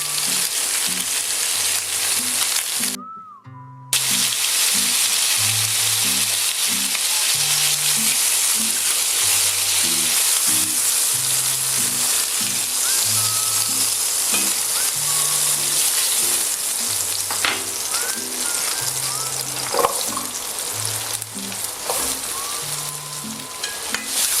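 Vegetables sweating gently in a pot for a split pea potée with chicken and smoked bacon, a loud continuous close sizzle with a rhythmic low background pulse and a short silent gap early on.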